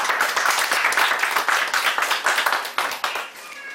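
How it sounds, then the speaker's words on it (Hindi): Loud, dense clapping from an audience at a herbal products boot camp session in Manali, a fast ragged burst of many hands that carries on for several seconds before thinning toward the end. "एक जोरदार ताली इम्यूनिटी पावर के लिए।"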